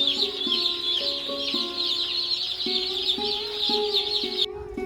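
Chicks and chickens in a poultry farm shed, housed on paper on the floor, fill the scene with dense continuous high peeping and clucking, with no talking.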